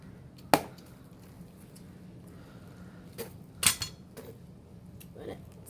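A knife chops through a ripe jackfruit being cut up for frying, giving two sharp, close cutting knocks with a few softer taps between them over a quiet background.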